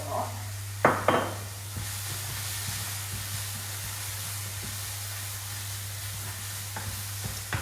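Red wine poured into a hot sauté pan while cooking a bolognese sauce for gnocchi. It makes a sharp sizzling burst at first, then settles into a steady, close hiss with faint stirring.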